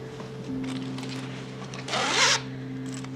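A zipper is pulled along a handmade cross-stitch bag in one quick, loud rasping pass lasting about half a second, heard over a steady electrical hum.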